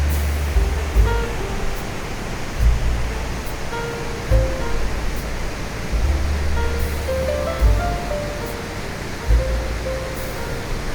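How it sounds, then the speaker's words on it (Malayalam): A mountain stream by the road near Munnar tumbles over rocks in a loud, unbroken rush of water, heard up close with slight surging swells and no voices. "ഇവിടെ നിന്നിങ്ങനെ കല്ലെ തട്ടി പതഞ്ഞൊഴുകി താഴോട്ട് അങ്ങനെ നല്ല ഒച്ചയോടുകൂടി അതിൻ്റെ ഒരു ഒഴുകുന്ന ആ ഒരു സൗണ്ട് കേൾക്കാൻ തന്നെ ഒരു ഇമ്പമുള്ളതാണ്."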